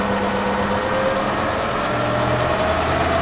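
A lathe motor on a VFD runs under a steady electric hum, and its tonal whine glides upward in pitch as the motor speeds up over a constant broadband drone.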